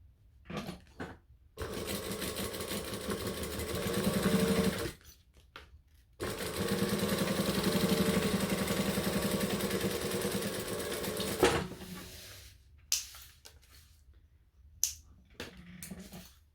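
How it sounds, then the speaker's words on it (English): A sewing machine top stitches along the flap of a clutch bag in two long runs of steady, close whirring, separated by pauses with handling clicks and fabric rustle. "we're going to fold this up on itself and top stitch along the flap piece"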